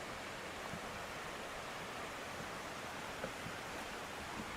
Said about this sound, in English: I'm really hearing the creek and not really the generator, although you can hear it.